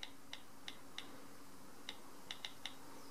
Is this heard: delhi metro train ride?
no